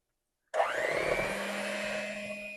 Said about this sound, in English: I'm just going to use my hand mixer to do that today